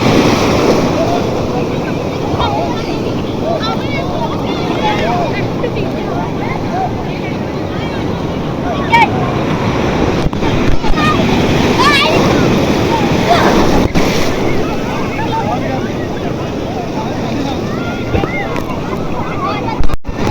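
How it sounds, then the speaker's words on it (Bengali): Surf rolling in at high tide on Sugandha beach, Cox's Bazar, a steady loud wash of breaking waves with wind buffeting the microphone and a person talking over it. "এখন জোয়ারের সময় তো এই জন্য অনেক ঢেউ"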